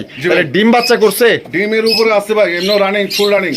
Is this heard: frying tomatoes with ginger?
no